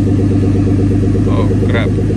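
A Nissan 300ZX twin turbo engine runs at a steady, loud idle with a deep, even rumble, and a voice speaks briefly over it near the end.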